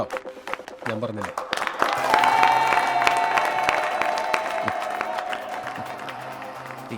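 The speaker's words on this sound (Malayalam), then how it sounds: "ഈ കയ്യടിയാണ്" Audience applause in a film scene from the Malayalam movie Nadikar builds to a sustained, dense roar of clapping over a soft musical tone, then slowly tapers.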